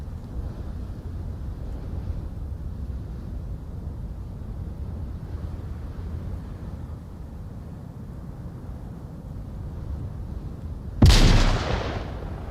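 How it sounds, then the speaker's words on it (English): A grenade goes off in a VR military shooter match near sandbagged positions: one sudden loud blast late in the clip, decaying over about a second, after a steady low rumble of background game ambience. "Nade almost takes out Graham."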